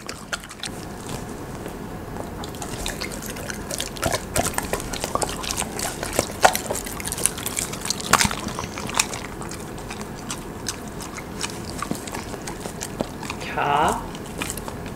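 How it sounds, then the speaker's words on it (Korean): Dog biting and chewing a giant jelly pudding snack, with soft wet bites and squishy crunches scattered throughout, close up, under a voice talking. "김치 엄청 크게 먹었어"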